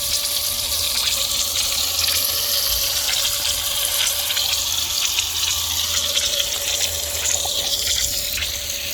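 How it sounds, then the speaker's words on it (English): Garden tap or hose pours water steadily onto potted plants during a heat wave, a continuous bright hiss and splash with no speech over it. "It's gonna be a bit tricky to water these ones and just water the roots"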